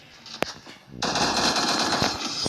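Video game gunfire erupts after a single isolated shot, then a rapid, loud, sustained burst of automatic fire continues steadily to the end without talking.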